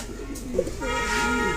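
Beauty Homer pigeons of the German Beauty type cooing inside a pigeon shop, a few soft throaty coos close by over a busy background with a faint horn-like tone.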